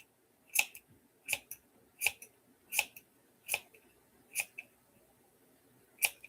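Sharp scissors snip through chunky yarn while trimming a DIY lamb wreath, with about eight crisp, close cuts spaced in a steady rhythm over quiet background and no talking.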